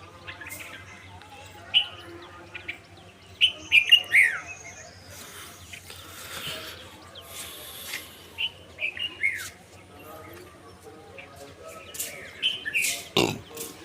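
Several short, bright bulbul calls chirp from a moderate distance over a quiet outdoor background, in scattered bursts.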